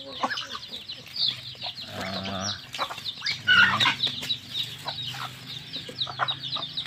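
Hens cluck and chicks peep near the microphone on a rural farm, a busy mix of short repeated calls and soft clucking heard together.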